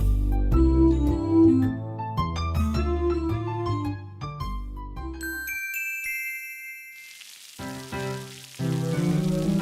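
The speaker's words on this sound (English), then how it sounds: "When you hear this sound, it's time to turn the page" A bright chime signals the page turn in a read-aloud picture book, a cascade of tinkling bell notes over a low tone, then a shimmering sustained ring before the melody returns, loud and alone.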